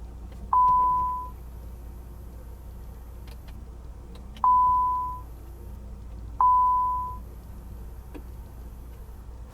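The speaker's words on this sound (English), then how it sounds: "the driver presses their intercom button and it rings back here like a telephone" Rear intercom in a Maybach 62 luxury sedan ringing like a telephone, three evenly spaced electronic tones, each a short steady beep with a fading tail, clear and moderately loud over quiet cabin hum.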